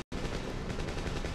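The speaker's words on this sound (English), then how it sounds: "Oh man, somebody's setting off fireworks out there." Fireworks go off outside in a rapid, continuous crackling barrage, a dense stream of pops that sounds a lot like automatic gunfire and stays loud and steady after an abrupt start.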